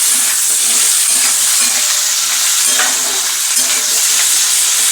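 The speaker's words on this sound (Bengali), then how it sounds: "আলুটা দিয়ে দিলাম, একটু নাড়িয়ে নিচ্ছি" Potatoes fry loudly in a pan, a dense, constant sizzle right up close, with scraping and shuffling as they are stirred throughout.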